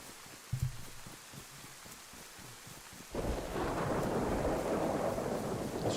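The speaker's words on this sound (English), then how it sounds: "I really need this rain to stop." Rain and thunder in the DayZ video game: a low rumble rolls in at first, then a heavy roar of rain and thunder surges up loudly and holds steady, dense and close, with no talking.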